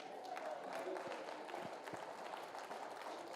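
An audience at a church sermon claps in steady, moderately distant applause, a continuous patter of many hands that stays fairly faint throughout.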